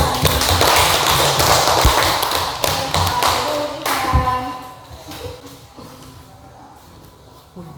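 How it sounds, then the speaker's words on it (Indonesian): Applause from a classroom of students for a classmate's presentation, a dense burst of clapping that fades out over several seconds. "kita beri aplaus dulu untuk Ivan karena sudah berani presentasi di depan"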